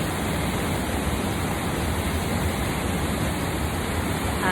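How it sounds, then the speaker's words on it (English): White noise played through a sound system during recalibration: a steady, loud, unbroken hiss filling the whole stretch like rushing water, with no speech or other sounds over it. "white noise is recalibrating my sound system"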